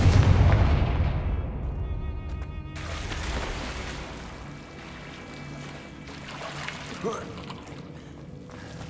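Confringo fire spell cast in the game Hogwarts Legacy, a loud booming blast that decays into a lingering rumble and crackle, followed by quieter game sounds.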